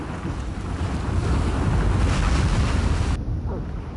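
Ocean waves in a video game boss encounter, a loud continuous roar of surf and rushing water with windy buffeting, swelling in the middle and cutting off sharply near the end.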